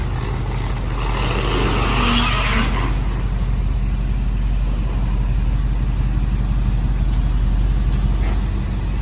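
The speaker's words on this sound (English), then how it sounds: "Look at the Aston Martin Vantage safety car." An Aston Martin Vantage Formula 1 safety car drives near a South African dealership, a steady loud low engine rumble and road roar holding for the whole stretch with a slight swell early on, no talking.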